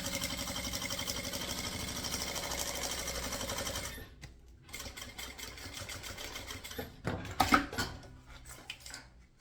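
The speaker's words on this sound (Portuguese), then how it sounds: "E fazer a costura aqui rebatendo." A sewing machine topstitches a seam at stitch length 3.5 on a fabric bento-style knot bag, its fast motor whir running steadily, then stopping and restarting in shorter bursts with a few clinks of handling.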